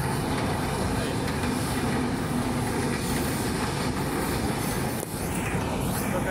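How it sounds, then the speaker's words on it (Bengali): A train rumbles past right beside a plot of land in Board Bazar, Gazipur, a loud, steady roar of rolling wagons filling several seconds with no pauses. "এই যে পাশে ট্রেন দেখা যাচ্ছে, পাশে ট্রেন অবস্থিত"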